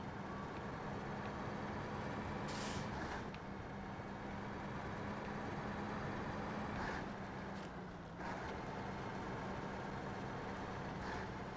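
A truck engine drones steadily in the video game SnowRunner, a loud, continuous hum with a few brief rising whines and bursts scattered across it and no one speaking.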